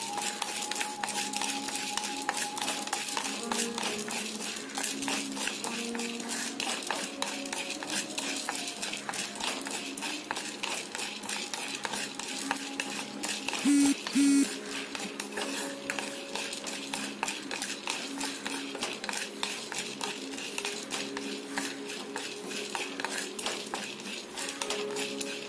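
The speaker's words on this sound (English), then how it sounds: "Now roast the chana dal." Chana dal roasting in a pan, with steady scraping and stirring of a spoon against the metal and a light sizzle, close and continuous without talk.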